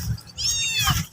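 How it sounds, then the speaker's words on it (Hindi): A kitten gives a short, thin, high-pitched meow at close range, with faint background noise around it. "बिल्ली के बच्चे।"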